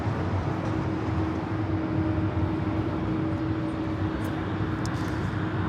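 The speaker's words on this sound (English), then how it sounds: "United 757-300 touching down here on the south side" A United Boeing 757-300 lands on the south side runway at Los Angeles International Airport, a steady, broad roar of jet engines and rushing air that holds level and loud from start to finish.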